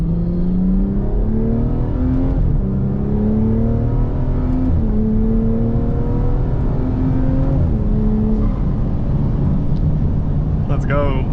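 A Stage 2+ full bolt-on BMW 340i F30 with an upgraded fuel pump accelerates hard. A loud, droning engine climbs steadily in pitch through several gears, with brief dips at each upshift, heard from inside the cabin.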